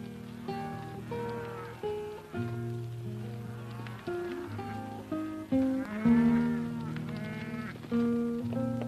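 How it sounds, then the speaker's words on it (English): A herd of wild steers on open range in a 1953 Western moos repeatedly, with loud, drawn-out overlapping lows filling the whole stretch and no voices over them. "Where these cattle come from, Carl?"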